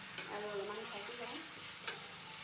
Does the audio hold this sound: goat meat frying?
yes